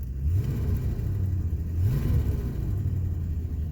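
The engine of a 1979 Lincoln Mark V that needs a carburetor tune-up runs as a deep, steady low rumble close by, with a brief slight rise in revs midway.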